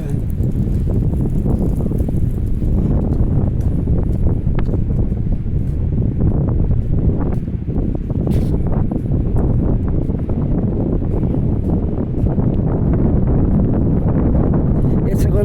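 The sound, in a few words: wind blowing on a breezy street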